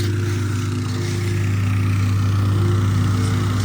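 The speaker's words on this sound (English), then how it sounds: "we're in the process of compacting the gravel" A compactor machine packing gravel into a honeycomb Gravelfix grid on a driveway gives a steady, loud engine drone with a low rumbling hum, continuous and close throughout.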